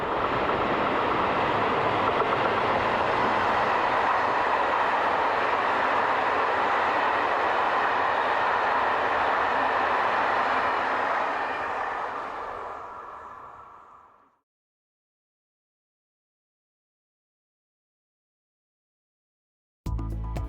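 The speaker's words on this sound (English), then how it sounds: "we see endangered BB16000 class number 16028 heading north with a train from Paris" BB16000 class electric locomotive number 16028 passes with a northbound train from Paris at Vranovice on the main line to Austria and Slovakia, a loud steady rolling roar that fades away at about fourteen seconds before a brief new sound.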